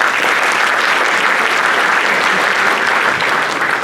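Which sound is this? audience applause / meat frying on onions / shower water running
audience applause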